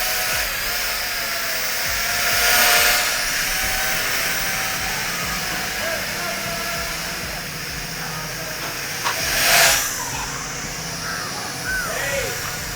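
A small gesture-controlled drone powered on and flying nearby gives a steady whining buzz over broad airy hiss, swelling briefly twice as it moves, with no speech.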